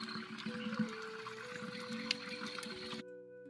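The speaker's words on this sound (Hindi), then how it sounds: "मेरा भी बर्तन भर चुका है" Water running into a metal vessel at a mountain water source, a continuous splashing fill with a rising tone that stops abruptly near the end, close and steady.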